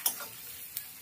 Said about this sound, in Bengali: একটু নেড়ে দেবো পেঁয়াজ আর টমেটো একসঙ্গে